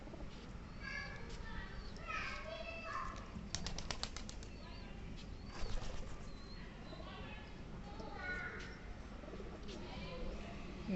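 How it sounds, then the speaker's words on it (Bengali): At dusk, pigeons flutter into a loft with several short bursts of wing flapping and soft cooing. The sounds are near and moderately quiet, with a person talking at times. "সব খামারে এখন প্রত্যেকটা কবুতর ঢুকতেছে"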